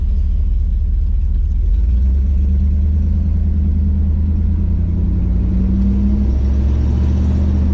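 A 1987 Dodge D100 pickup truck engine rumbles steadily and loudly from close inside the cab after an ignition timing fix, with a low drone and slight changes in revs, and no one speaking.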